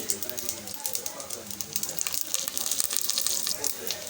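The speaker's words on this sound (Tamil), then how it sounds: "கடுகு வெடிக்க ஆரம்பிக்குது" Mustard seeds popping in hot oil in a pan, giving a close, rapid, dense crackle of small pops over a sizzling hiss.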